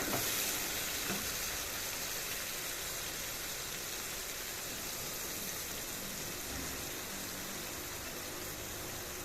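Poppy seed paste frying in a pan for a prawn curry, a soft continuous sizzle with faint wet bubbling, fairly quiet and steady throughout, no voices.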